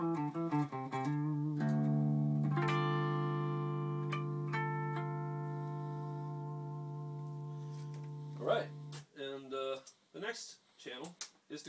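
Clean channel of a Rhodes Colossus H-100 amp with an electric guitar, playing a few quick picked notes and then a long ringing chord that sustains and slowly decays, followed by short plucked notes near the end, with no talking.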